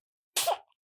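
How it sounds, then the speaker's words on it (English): A baby gives a single short, sharp sneeze, close and fairly quiet, with silence before and after. "Oh, the sneeze is over."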